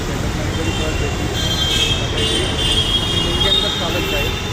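Road traffic rumbles as a steady, fairly loud drone of engines and tyres, with faint distant horns and voices blended in.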